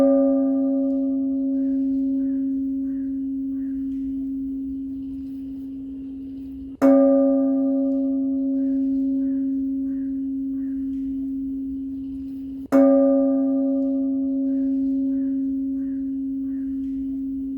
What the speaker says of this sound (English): he will ring the bell first